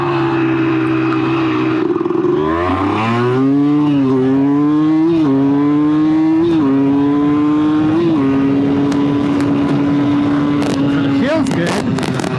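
CR250 two-stroke dirt bike being ridden, loud buzzing engine revving up through several gear shifts with rising pitch sweeps, then holding a steady high drone, close and continuous.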